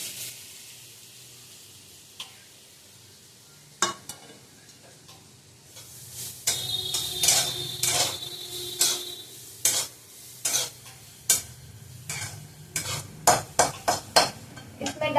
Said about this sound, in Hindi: जो बेसन का वो मिक्सी में मिक्सचर किया था उसको देसी घी में भूनेंगे। चलिए भूनते हैं।